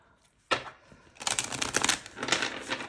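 Tarot cards being shuffled by hand during a reading, a quiet first riffle followed by a dense, continuous run of crisp card-flicking clatter close to the listener.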